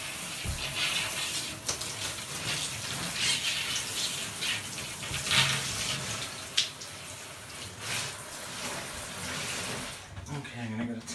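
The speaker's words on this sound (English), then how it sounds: "I'm going to rinse this off." Running water rinses a Hurricane Spin Scrubber in a continuous moderate gush and splash, steady throughout with a few brief knocks of handling.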